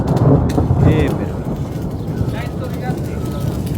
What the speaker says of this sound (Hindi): बहुत तेज बारिश होगी फिर से शुरू।